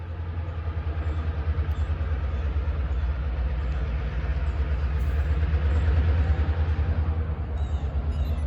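Pittsburgh & Ohio Central freight train, the Arden Turn, departing with a steady, loud low rumble of engine and rolling cars throughout, swelling slightly near the end, with no voices.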